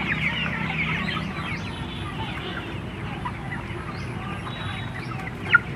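Chickens at a poultry farm clucking in a continuous busy chorus, a steady murmur of many birds with occasional sharper calls, moderately loud and close, with faint voices in the background.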